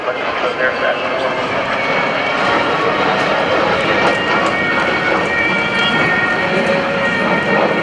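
Military jets from VFA 106 fly past at a 2015 NAS Oceana airshow, a loud, continuous broadband engine roar that stays steady throughout, with an announcer faintly audible underneath.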